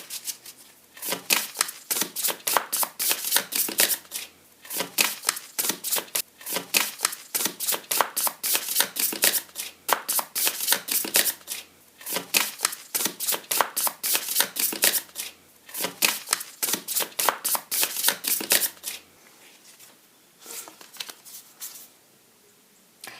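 Tarot cards are shuffled close to the microphone in fast, crisp riffling bursts with short gaps, sounding fainter and sparser toward the end, with no talking.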